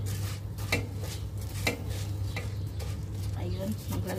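Cinnamon stick, dried lemon and cloves being stirred in a cooking pot, a few clinks and scrapes of a utensil against the metal under a steady background hum, with a person talking.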